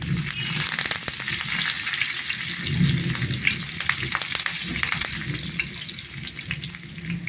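Steady crackling sizzle of curry leaves frying in hot oil with cumin, close and continuous with sharp pops scattered throughout.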